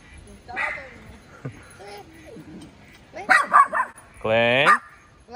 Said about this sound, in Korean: 이렇게 강아지들이 이렇게 풀어진 상태로 많이 주인이랑 돌아다닙니다